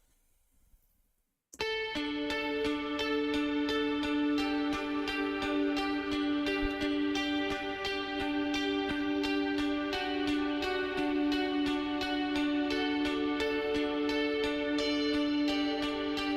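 A sustained synth or guitar music part processed with a rippling delay, pitch modulation and a long reverb rings out after a brief quiet start, holding steady tonal notes with shimmering repeats for the rest of the stretch, no talking.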